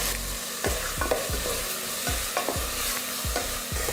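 Oil sizzles steadily in a pan as tomatoes and curry leaves sauté while a spoon scrapes and stirs in a repeating rhythm, close and fairly loud, with no talking.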